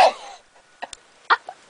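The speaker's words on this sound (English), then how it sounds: "I just sneezed on my brother" One sharp, close sneeze bursts out, followed by a few small sniffs and breathy noises in an otherwise quiet room.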